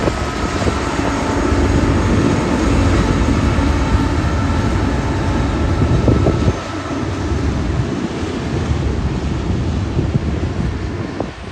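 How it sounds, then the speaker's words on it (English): A train emerging from a tunnel on the Oregon Trunk line near the Columbia River, its steady broadband rumble loud and continuous throughout, heavily mixed with wind buffeting the microphone. "a train popped out of the tunnel on the Oregon Trunk just above me"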